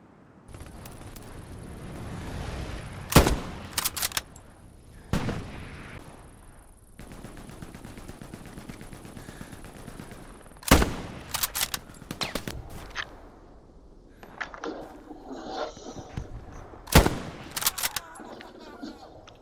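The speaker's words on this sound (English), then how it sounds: "shooting someone point blank with the bolt action, and you really feel the power of this weapon" Bolt-action rifle fire in the WWII shooter Hell Let Loose: a few sharp, powerful single shots spaced seconds apart, with quieter battlefield gunfire and movement between them.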